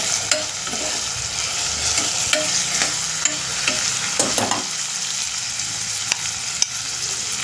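Onion lightly frying in a pan with curry leaves dropped in, a steady bright sizzle with occasional stirring scrapes and small crackles, close and continuous.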